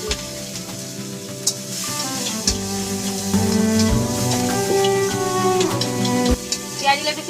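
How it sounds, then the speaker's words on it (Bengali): Chopped onions fry in a wok along with sugar, whole spices and green chillies, giving a steady close sizzle. A spoon stirs and clinks now and then, and a voice speaks faintly underneath. "পেঁয়াজগুলো একটু ভেজে নেব।"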